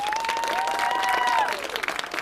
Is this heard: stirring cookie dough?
no